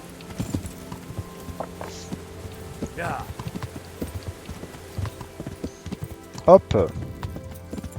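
Horse hooves clip-clop in the medieval video game Kingdom Come as the rider's steed moves along, soft steps scattered across the moment, with a louder thump near the end and someone speaking over it.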